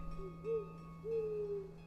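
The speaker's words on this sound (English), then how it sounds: "An owl? But it's still daytime." Two soft owl hoots from an RPG Maker game, a short rising call followed by a longer drawn-out one, heard over a steady low electronic hum and faint background tones.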